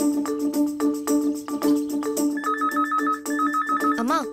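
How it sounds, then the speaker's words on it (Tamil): An electronic phone ringtone plays a repeating melodic pattern of bright tones, loud and close, with no one speaking. "அம்மா, ஃபோன் அடிக்குது, யாரன்னு கேளு."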